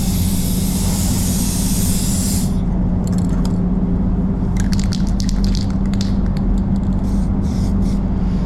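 A steady hiss of an aerosol primer spray can during Lexus CT 200h body prep, loud and continuous at first, then cutting to shorter bursts over a low background hum.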